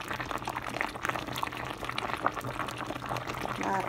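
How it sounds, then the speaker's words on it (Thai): Cassava pieces simmering in boiling sugar syrup in a pot over low heat, giving a steady soft bubbling and liquid hiss with faint splashes from syrup being ladled over, close and continuous. "ปล่อยให้เขาเดือดไปเรื่อยๆจ้ะ ค่อยๆตักน้ำเชื่อมราดไปจ้ะ"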